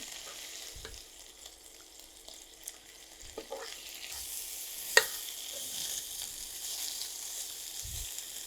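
Boiled chicken breast coated in spices fries in a pan for a chicken bhorta, giving a steady broadband sizzle that grows louder midway, with a sharp pop or clink near the middle and a few low knocks of stirring.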